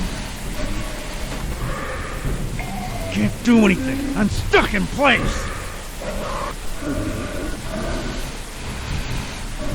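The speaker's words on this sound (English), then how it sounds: "It's hard to see through the rain" Steady rain patters beneath someone talking, with a low rumble of thunder rolling in the background, in the video game Gibbous - A Cthulhu Adventure.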